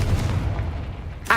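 A Confringo blasting spell detonates in a Harry Potter video game, a heavy, booming explosion with a low rumbling tail that fades before a sharper burst flares at the end.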